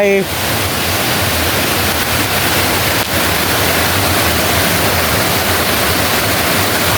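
Sap Sa Kaeo waterfall near Ban Khao Phluang roars in a loud, continuous broadband rush of falling water, close and unbroken throughout.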